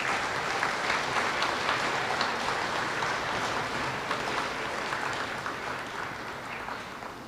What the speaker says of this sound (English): Round of applause for our second grade students.